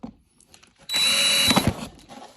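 Power drill boring two holes into the throttle valve of an EcoDiesel throttle body; a short, loud, steady whine after a brief quiet start.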